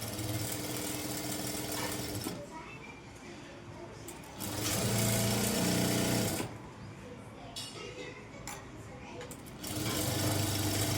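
A sewing machine stitches a Punjabi dress top in rapid, steady runs, three bursts separated by pauses, heard close and clear, with someone speaking quietly in the gaps.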